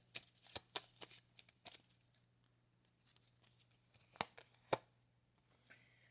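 Playing cards for an energy reading are shuffled and dealt onto a surface in quick, crisp riffles and slaps, busiest in the first two seconds, then a few sharp snaps near the end over a low steady hum.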